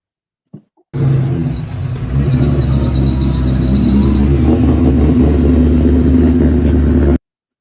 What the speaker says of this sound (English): Listen to the car.